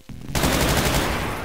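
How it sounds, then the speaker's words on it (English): A machine gun in the video game Brutal Doom fires a continuous, rapid, loud burst that starts abruptly after a brief quiet moment and roars on steadily with no talking. "Just a machine gun with a grenade launcher attached."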